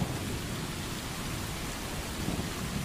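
Steady rain hisses and patters in the video game Stray, a dense, even wash of falling water with no voices over it.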